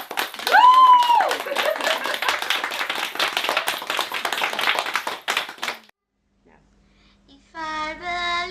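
An audience claps together at a live multicultural children's event, a dense patter of many hands with cheering for about five seconds. A short quiet gap follows, then singing begins.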